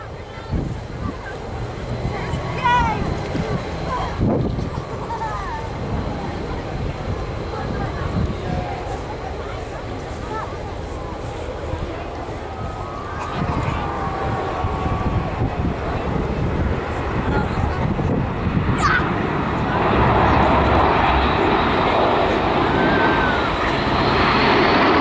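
RAF transport aircraft flying at the Royal International Air Tattoo, a broad, continuous engine roar that builds louder toward the end, with a crowd murmuring and a public-address voice underneath.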